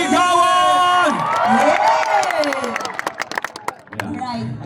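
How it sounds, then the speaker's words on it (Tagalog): Crowd at a battle of the bands erupting in loud cheering, whoops and applause, with voices shouting over each other, then sharp scattered claps trailing off near the end. "Malakas magpalakpakan at sigawan!"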